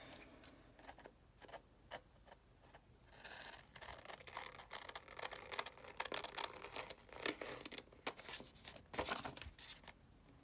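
Scissors snip through paper while a doll's circle-skirt pattern is cut out, giving a quiet run of crisp, close clicks and rustles in irregular bursts, with paper crinkling in between.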